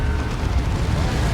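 An orbital bombardment strikes in Dawn of War 2, a deep, sustained rumbling explosion with heavy low-end roar filling the whole brief moment.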